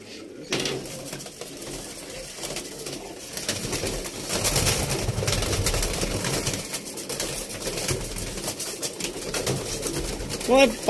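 Pigeons in a loft coo repeatedly in low, overlapping calls, with some rustling and movement nearby and background voices present.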